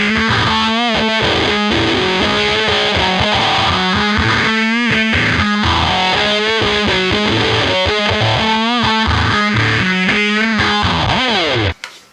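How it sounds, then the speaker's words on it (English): An electric guitar runs through a Big Muff fuzz pedal playing a song part: thick, saturated fuzz in rhythmic chugging chords and sliding notes, loud and upfront, cutting off abruptly at the end. "That's where I feel most comfortable to use a Big Muff"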